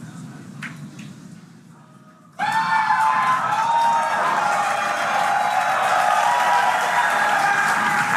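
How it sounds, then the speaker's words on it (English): Crowd at SpaceX Mission Control in Hawthorne bursts into loud cheering and applause during a Starship flight test, starting abruptly after a quiet stretch and holding steady with whoops and shouts throughout. "As you can tell by the excitement from the crowd here at Mission Control Center in Hawthorne"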